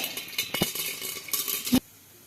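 Mustard seeds crackle and pop in hot oil for tempering, with irregular sharp snaps and a light sizzle, close up, stopping abruptly.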